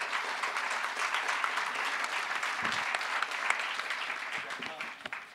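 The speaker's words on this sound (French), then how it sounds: "Je crois qu'ils applaudissent ton Bob" Audience applause at a literary talk event, a steady dense wash of clapping that carries on without a break and fades slightly toward the end.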